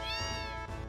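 A cat meows once in the Final Fantasy VII video game, a short, clear, slightly falling mew, close and alone.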